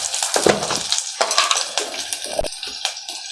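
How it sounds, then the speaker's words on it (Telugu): Tempering for rasam frying in a pan, a steady crackling sizzle with bursts of spattering and stirring, close and fairly loud with no talk. "తాలింపు అంతా కూడా ఇలా వేగుతుంది కదా"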